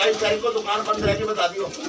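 Punjabi Madrasi pigeons coo at a pigeon shop in Trilokpuri, giving several throaty, pulsing calls close by that overlap in a quick, uneven rhythm throughout.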